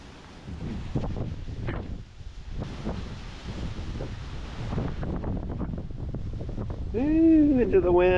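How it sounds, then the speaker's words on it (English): Steady wind buffets the microphone on a beach during the lead-up to Hurricane Milton, a constant broadband rush with gusts that swell near the end, close and fairly loud, with faint tonal whistles at the finish. "now there's a little bit of wind"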